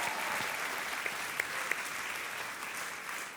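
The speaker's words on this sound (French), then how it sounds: "j'aimerais qu'ils puissent entendre vos applaudissements et votre ovation" An audience applauds and gives an ovation for the group Momentum Sans Frontières, a faint, distant, continuous patter of many hands with a few sharper claps standing out.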